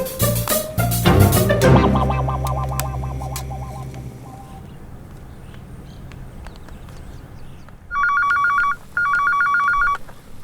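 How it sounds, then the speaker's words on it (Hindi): A telephone ringing in a Hindi TV drama scene: two bright electronic ring bursts near the end, close and clear, after clattering clip-clop and bell-like sounds at the start. "प्रीता, मना किया था ना फोन उठाने के लिए, पागल है तू।"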